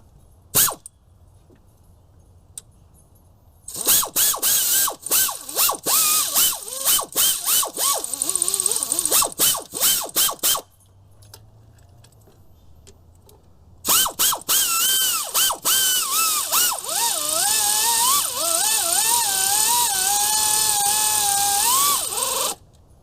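Hand ratchet with a deep wall 13 socket working on a Chevy Impala plenum, long runs of rapid close clicking in two main bursts separated by quiet pauses.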